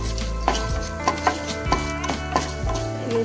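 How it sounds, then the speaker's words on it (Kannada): Frying and stirring for chutney in a pan: close, steady scraping and rubbing strokes with light knocks of a utensil against the pan, some soft sizzle underneath, no talk. "ಇದನ್ನು 1-2 ನಿಮಿಷ ಚೆನ್ನಾಗಿ ಫ್ರೈ ಮಾಡ್ಕೊಳ್ಳೋಣ"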